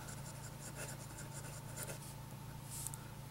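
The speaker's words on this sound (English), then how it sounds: "So it actually writes fairly smoothly." A vintage Waterman fountain pen with a number 2 manifold nib scratches steadily across paper, close and fairly quiet, with short strokes over a constant low electrical hum.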